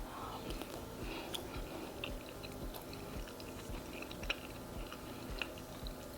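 Close, soft chewing and occasional crunchy bites of shrimp and quinoa mixed with chimichurri sauce, steady mouth sounds with small clicks throughout, no talking.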